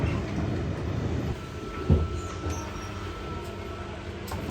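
A 55-year-old commuter train rolls along with a steady low rumble and rattle, a brief louder clunk midway, heard from inside the carriage with no talking.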